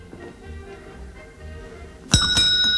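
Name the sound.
eight bells chiming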